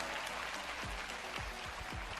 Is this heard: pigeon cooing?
no